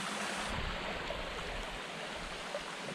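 A jungle stream on the Takmak fort trek rushes steadily in a broad, constant wash of flowing water, close and unbroken for the whole stretch.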